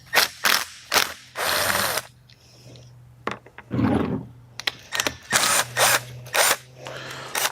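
Ratchet wrench loosening a nut on the starter of a 1997 Toyota Camry, several quick bursts of sharp rapid clicking with short pauses between, close and clear, with some metallic handling in between.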